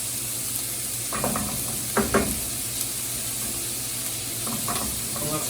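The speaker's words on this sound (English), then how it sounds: "We're going to just fry some peppers and onions." Steady sizzling from peppers and onions frying in a pan, with a few soft scrapes and stirring clinks over the constant hiss.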